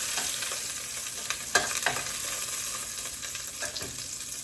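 Pieces of short rib sear in a pot on the stove, giving a constant close sizzle and crackle, with a couple of sharper pops and stirring scrapes and no voices.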